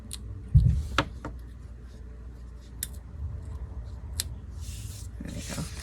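A single sharp snip of scissors cutting the bottom off an item, most likely a bubble tea cup, lands near the start. Quieter handling sounds and faint rustles follow in a calm indoor space.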